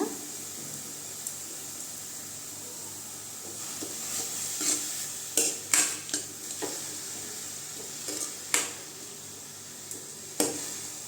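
Carrots cooking with a little water and salt in a pan for a Tamil carrot poriyal, stirred with a utensil that scrapes and taps the pan in several sharp clicks over a soft, steady sizzle.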